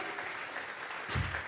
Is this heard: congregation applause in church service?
yes